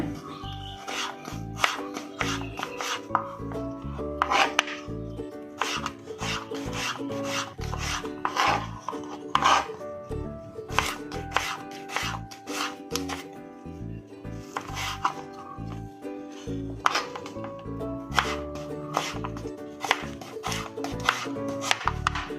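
A knife cuts raw green mango and carrot lengthwise into strips on a board for a white pickle, giving a steady series of close, crisp chopping and rasping strokes with no talk.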